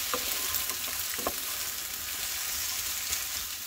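Eggplant pieces fry in oil in a pan, a steady dense sizzle with occasional louder crackles and pops throughout, close and alone.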